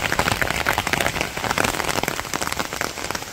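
Steady rain pours over a Bangladeshi village, a dense, loud, even hiss of drops pattering on surfaces close by, with no voices.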